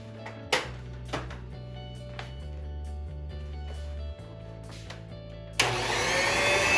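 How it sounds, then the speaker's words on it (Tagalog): An electric beater whips cream of tartar, salt and then sugar for Brazo de Mercedes. A steady motor whir runs alone, shifts tone around four seconds and grows louder and brighter near the end. "And then we will start beating this one with an electric beater."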